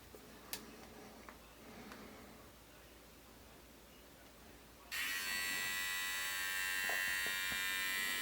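A Ufree all-in-one beard trimmer and hair clipper, USB-C rechargeable, switches on after a few faint clicks and runs with a steady, loud, high electric buzz for the last few seconds, alone with no talk.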